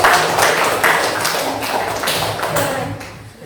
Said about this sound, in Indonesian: tepuk tangan buat kelompok satu